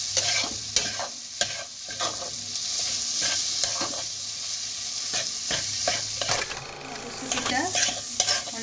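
Green peas are stirred and fried in a pan, with a steady sizzle under repeated scraping strokes of a spatula that come in an uneven rhythm. The sound is close and fairly loud, and no one speaks.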